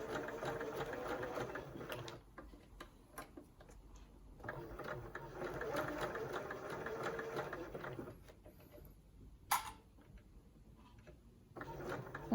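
A sewing machine stitches fabric for a handmade advent calendar in several short bursts of quick, rattling clatter, separated by brief pauses, heard fairly close but quiet.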